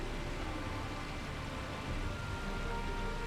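A make-it-rain effect in the video game LOTRO produces steady, broadband rainfall hiss, an even wash of droplets without pauses, at moderate loudness with no voices.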